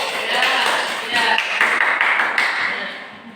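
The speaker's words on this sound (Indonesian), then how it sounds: "Silakan tepuk tangan dulu" A group in a class session claps together, loud close handclaps with distinct sharp taps, while voices talk and call out over the clapping throughout.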